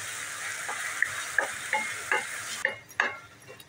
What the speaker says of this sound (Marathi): टोमॅटो, आलं, लसूण, मिरची, हे आपण टाकून घेऊया ह्याच्यामध्ये आणि परत मिक्स करून घेऊया आपण